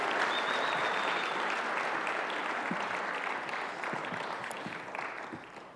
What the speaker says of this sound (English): Why don't you guys give them a round of applause?